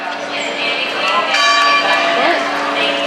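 Bells chime at Magic Kingdom, Walt Disney World, near a carousel, ringing with sustained tones over a busy theme-park crowd and background chatter.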